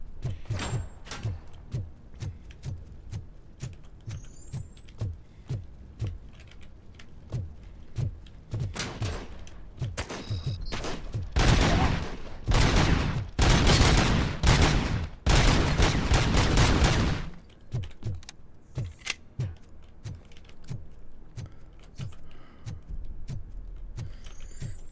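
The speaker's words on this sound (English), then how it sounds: "They're shooting at me." Gunfire aimed at the player in the RoboCop video game: a steady run of sharp single shots ticks along regularly, broken by a loud dense burst of rapid fire in the middle before the spaced shots resume.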